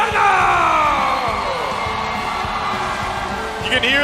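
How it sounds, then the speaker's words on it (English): Crowd at an M5 World Championship esports knockout match roars and yells loudly, with whoops rising in waves over an announcer's voice. "you can hear the crowd here."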